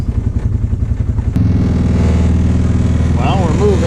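Polaris Ranger UTV engine idling with a rough putter, then revving up and holding a steady drone as it is put in gear and pulls away, close and loud, with brief talk over it.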